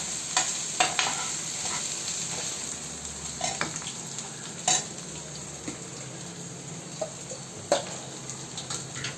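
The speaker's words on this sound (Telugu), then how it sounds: "దాన్ని కూడా ఒక ఐదు నిమిషాలు వేగనివ్వాలి" Chili powder frying with onion, green chili and ginger-garlic paste for goat blood curry, a steady low sizzle broken by intermittent sharp clicks and scrapes of a spoon stirring in the pan.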